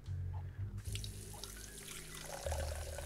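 Water runs from a tap into a glass in the game Size Matters, a steady, faint trickle that stops and changes tone partway through, heard with no one speaking.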